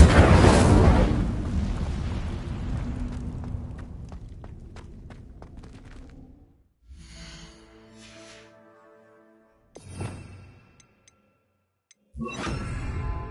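An Incendio fire spell is cast in Hogwarts Legacy, starting with a loud, roaring whoosh that fades steadily over several seconds. Quieter crackles and short flares follow after brief silences.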